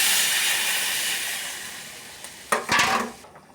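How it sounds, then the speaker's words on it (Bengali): Curry gravy simmering in a cooking pot gives a steady bubbling hiss that fades slowly, followed near the end by a few brief clatters and scrapes of a utensil against the pot. "দেখো, আমার ঝোল ফুটে গেছে"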